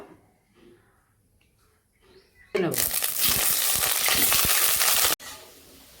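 Potatoes fry in hot oil in a wok. After a quiet start, a loud crackling sizzle bursts in and holds steady for a few seconds, close up, then drops away sharply.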